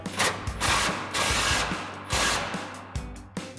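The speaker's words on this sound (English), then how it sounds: "We'll come in with our 17 mil socket on our impact, tighten this down." An impact wrench with a 17 mm socket tightens an exhaust bracket nut on a Ford F-150, firing in several loud rattling bursts separated by short pauses, with sharp clicks between them.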